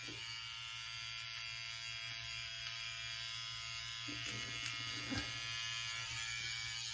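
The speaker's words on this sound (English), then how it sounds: "It makes a loud noise in my ear." The nose and ear hair attachment of a Yabife beard trimmer runs with a steady, high, close buzzing drone that holds throughout, with small bumps of handling noise near the end.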